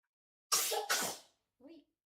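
A single loud sneeze bursts out close by, followed a moment later by a short, softer vocal sound, heard during live commentary on a Mets versus White Sox baseball game.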